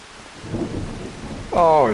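Rain with a low rumble of thunder in the Farming Simulator 25 video game, a soft wash and rolling boom, then a sudden louder burst of bright, wavering tonal sound near the end.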